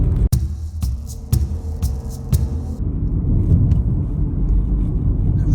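A car drives along a rough jungle road in the Amazon in Brazil, a loud, close, steady rumble of engine and tyres, punctuated early on by several sharp knocks and jolts.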